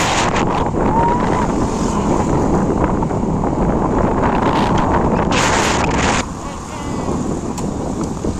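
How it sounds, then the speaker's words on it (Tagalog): Strong wind buffets the microphone outdoors near water, a loud continuous roar that drops off slightly toward the end, with people talking faintly underneath. "Bon, lakas ng hangin."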